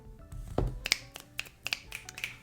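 Several sharp finger snaps come in an uneven rhythm, close and fairly crisp, with quiet room sound between them and no talking over them.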